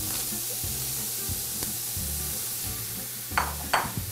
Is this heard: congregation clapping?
no